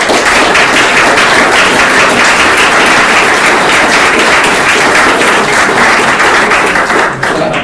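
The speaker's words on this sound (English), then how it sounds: "if you can give them a round of applause" Loud, steady applause from a large crowd thanking a panel after a discussion, dense clapping filling the whole stretch without pause.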